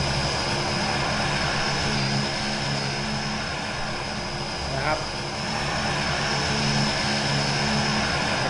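A Thai Airways airliner's engines drone in the driving game BeamNG.drive while flying at about 300 km/h, a loud, constant roar with a faint rising tone partway through, and someone talks over it.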